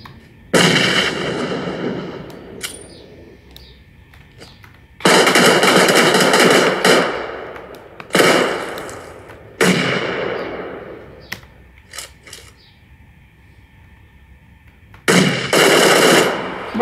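Explosions and bursts of gunfire in the battle game PUBG Lite, including grenade blasts, come in loud broadband bursts separated by quieter gaps.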